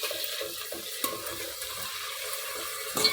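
Chopped onions fry in a pan of oil for a crab curry, giving a steady, soft sizzling hiss with a few light stirring scrapes and a brief clatter near the end.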